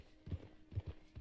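Horse hooves in the video game Red Dead Redemption 2, soft low clip-clop steps in an irregular walking rhythm, fairly quiet and close.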